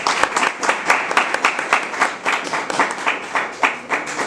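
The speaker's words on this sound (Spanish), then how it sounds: "Pido un aplauso para nuestros dos ponentes." Conference audience clapping for two panel speakers at a journalism seminar, a moderate room of individual claps with audible separate hand strikes, steady and uneven, with no talking.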